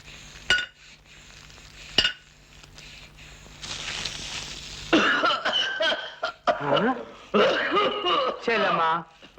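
Coughing from a person in a Telugu devotional film drama, a few sharp bursts early on against a quiet room with faint clinks, followed by people talking.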